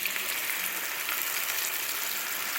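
Masala paste poured into a hot pan for a half egg masala, hissing and sizzling in a steady, dense fry that runs unbroken the whole time, close and fairly loud with no talk.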